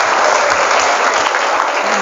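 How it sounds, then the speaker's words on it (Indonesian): Audience of santri at a pesantren motivation session in Tangerang applauding, dense steady clapping filling the whole stretch, loud and close. "Tepuk tangan untuk kita semuanya hari ini."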